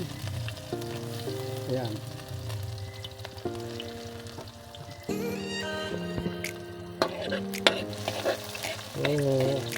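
Cooking oil frying in a pan, a continuous sizzle beneath prominent tonal background sounds and a brief spoken word.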